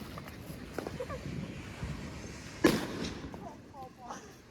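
A Diwali firecracker bomb goes off outdoors at night, one sharp loud bang midway, with voices around it before and after.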